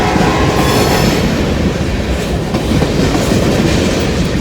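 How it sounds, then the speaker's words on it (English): A CSX freight train of empty grain cars rolls past on the tracks, its loud, continuous rumble and wheel clatter close by and alone, with no voices. "And I believe there's a CSX coming right after this."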